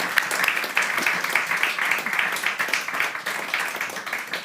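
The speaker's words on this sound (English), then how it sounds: "I think we should give them a big applause." Audience applause at a climate and satellite event, dense and continuous clapping from a large crowd that holds steady throughout without pause.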